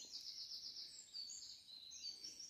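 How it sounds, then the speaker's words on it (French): Birds calling steadily around a quiet pond during a heatwave, a continuous layer of high chirps and trills held at a moderate, somewhat distant level with no talk. "Ces oiseaux se calment."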